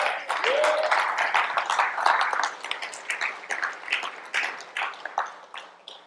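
Church congregation giving a short round of applause, many hands clapping in a dense burst that thins out into scattered claps, with a brief voice at the start.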